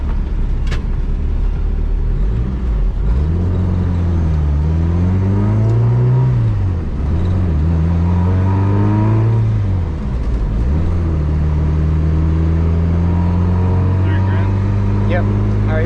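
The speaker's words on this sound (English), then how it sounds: "we're gonna try and make a 3rd gear pull, see what our boost is at." A turbocharged Vitara D16-engined hatchback pulling hard in third gear, the engine drone rising and falling through repeated revving sweeps before settling into a loud, steady roar heard from inside, with people talking over it.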